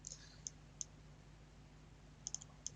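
A few sharp computer mouse clicks used while working in civil site design software, spaced irregularly: a pair early, one alone, then a quick cluster near the end, all faint over a low steady room hum.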